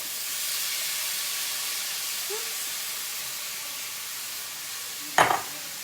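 Vegetables and garlic sizzle steadily in a hot cast iron skillet beside blackened chicken, a soft even hiss with one brief sharp clatter near the end.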